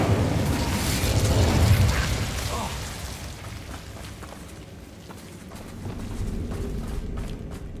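Spell combat in Hogwarts Legacy as the Incendio fire spell is cast: a loud, roaring burst of fiery boom over a dense game score, peaking early and then easing into a lower rumbling tail.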